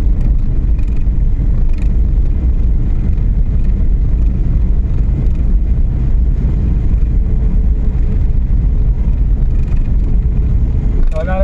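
A Suzuki Every Wagon's engine drones steadily as it climbs a steep uphill road at around 3000 RPM, a loud continuous low rumble with wind buffeting and someone talking over it.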